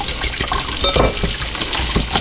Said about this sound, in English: I like to put a shot of milk in mine